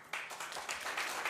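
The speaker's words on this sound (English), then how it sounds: "On en profite pour applaudir les membres du jury" An audience applauds jury members at a superyacht chef competition, with dense, steady clapping that starts suddenly and continues throughout.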